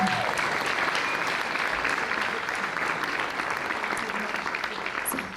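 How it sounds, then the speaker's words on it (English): Sustained applause from a crowd at a university graduation ceremony honoring doctorate and PhD graduates, dense and steady throughout, loud and enveloping with no talk over it. "giving a big round of applause for our doctorate and PhD graduates"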